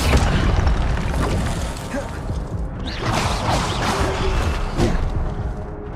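The Incendio fire spell in Hogwarts Legacy on PC bursts with a dense, loud roar and whoosh, rumbling continuously amid other game effects.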